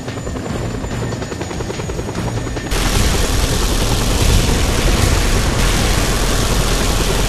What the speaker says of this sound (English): Deal with that chopper, Rico, quickly!